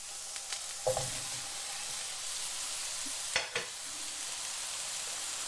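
Steady hiss and crackle of mushrooms frying with butter in a pan, with a couple of scraping stirs and clinks partway through.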